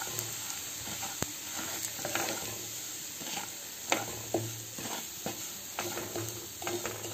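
Semolina roasts in hot ghee in a kadhai over low heat with a faint, quiet sizzle. Scattered scrapes and taps of stirring sound close by, and there is no speech.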